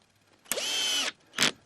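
A short, high whir of a power drill driving screws on an allotment, running for about half a second, followed by a brief second burst, close and distinct against near silence.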